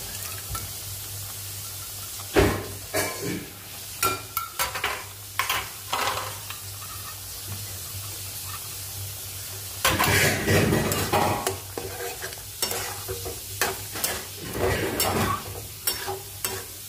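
Yogurt is stirred into Rajasthani chutney in a hot oily pan, a spoon scraping and clinking in uneven strokes over a steady sizzle, louder and busier midway, close up.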